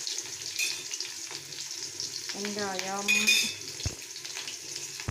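Mustard seeds splutter in hot oil in a pan, a soft crackling sizzle with sporadic pops close by, interrupted midway by a brief warbling tonal sound.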